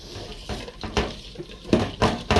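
A spoon works through lentils, tomato, onion and garlic in a pot, producing a few sharp metallic clinks and soft wet scrapes in an uneven rhythm, close by and with no talk.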